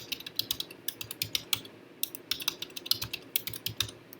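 Steady tapping on a computer keyboard as a password is entered, quick irregular keystrokes close up over a low background hum, with no talking.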